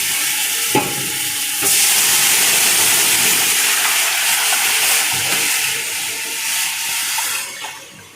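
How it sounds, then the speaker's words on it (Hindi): Pakora batter poured into a hot pot of turmeric-tinged curry, giving a loud, steady bubbling sizzle with hiss and stirring scrapes throughout. The sound tapers off near the end, with no talking. "इसके बाद आपने ये जो बैटर बनाया था वो डाल देना है।"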